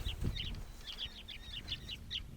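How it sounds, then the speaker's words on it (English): Several black-faced woodswallows give short, bright chirping calls in quick clusters, fairly faint and a little distant, against a quiet Australian outback background. "And I can hear all them birds. And they are black-faced wood swallows"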